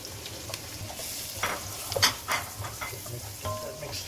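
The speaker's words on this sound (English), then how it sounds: "Get that mixed into the onion nicely." Dry spices being stirred into onions frying for paneer biryani, with a soft sizzle and scattered scraping stirs of a spoon in the pan, fairly quiet.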